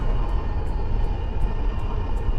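A spaceship engine failing in the Diaspora: Shattered Armistice game produces a loud, continuous low roar and rumble, with faint rhythmic high-pitched pulses ticking about every third of a second over it.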